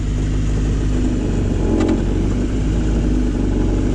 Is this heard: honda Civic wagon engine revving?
yes